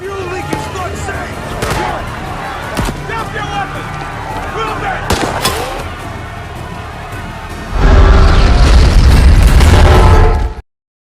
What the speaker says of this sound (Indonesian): yang menyebabkan beberapa pesawat evakuasi meledak.